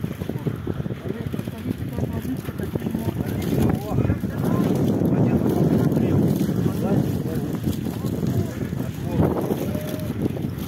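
A strong winter wind roars across the microphone at an outdoor walrus swim event in Yakutsk, rising and swelling in gusts, while people talk close by through the blustery noise.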